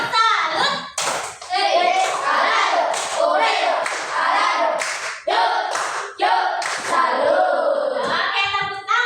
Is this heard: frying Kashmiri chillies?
no